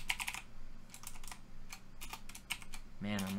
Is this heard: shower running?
no